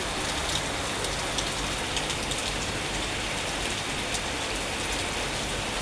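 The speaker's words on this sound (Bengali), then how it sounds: "অনেক জোরে বৃষ্টি হচ্ছে" Heavy, steady rain pours down throughout, a dense hiss with scattered drop impacts and no voices.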